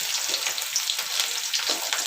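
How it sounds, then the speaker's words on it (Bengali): Chopped onion, bay leaf and garlic frying in oil in a pan, a steady close crackling sizzle with scattered sharp pops throughout, no voices. "এবার এটা ভেজে নিচ্ছি, হালকা করে ভেজে নেই।"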